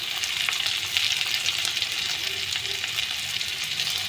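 Spices sizzle steadily in hot oil for egg curry (dim kosha) with chilli, turmeric, coriander and cumin powders, a dense continuous frying hiss that stays loud and even throughout with no talking.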